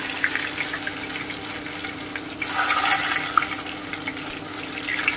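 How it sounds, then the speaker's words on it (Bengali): Chopped garlic sizzling in hot oil with two bay leaves in a pan while cooking mutton korma, a steady close crackle that swells louder midway, with no talking. "এবারে আমি রসুন কুচোটা দিয়ে দিলাম।"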